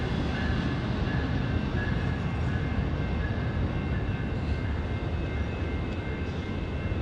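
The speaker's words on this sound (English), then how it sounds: "Oh, it's an Amtrak." An Amtrak passenger train passing near an airport in San Diego, a steady, loud, continuous rumble and roar with faint high whine, sustained throughout.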